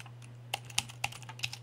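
Keys tap on a computer keyboard during a Mac OS X Mountain Lion install: a handful of light, irregular clicks, close and fairly quiet, over a steady low electrical hum.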